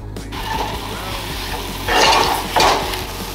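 Food sizzles and crackles in hot oil close by, swelling into louder bursts of frying with a faint clatter of utensils.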